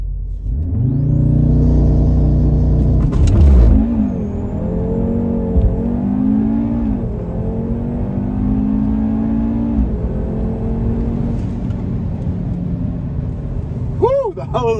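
Race cars rev and accelerate at an outdoor racing event, with loud engine rumble, rising and falling revs and passing whirs sustained throughout, mixed with distant crowd and voices.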